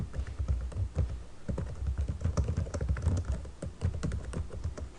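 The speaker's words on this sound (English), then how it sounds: "Type in" A caption is typed on a computer keyboard in quick, steady bursts of close keystrokes, with light tapping continuing throughout and no talking.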